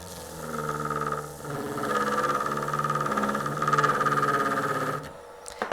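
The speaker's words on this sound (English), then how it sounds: "we're going to use the polishing wheel" A Foredom portable micromotor spinning a polishing wheel, a steady mid-pitched motor whine with tonal hum and slight fluctuations as it works, then cutting off near the end.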